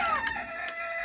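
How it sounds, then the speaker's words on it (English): A rooster crows inside a chicken coop holding Polish and buff laced birds, a single drawn-out, fairly close call with no talking over it. "maybe I'll do a little compilation of all the rooster crows"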